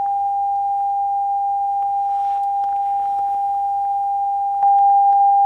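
A steady pure signal-generator tone from a single loudspeaker, one unbroken pitch held at constant loudness throughout, with faint room rustles beneath.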